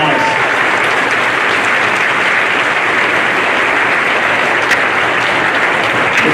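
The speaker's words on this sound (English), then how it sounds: "What a big round of applause." Applause from the audience at a high school underclass awards ceremony, loud, dense clapping held at an even level from start to finish.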